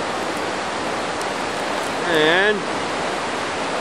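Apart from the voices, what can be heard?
washout water running at bottom of mountain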